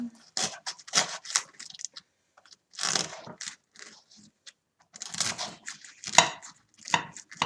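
A knife cuts through the crispy top of a baked fajita in short crunchy bursts separated by pauses, close by and fairly quiet.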